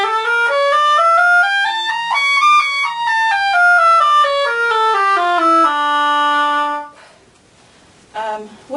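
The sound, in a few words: oboe playing D harmonic minor scale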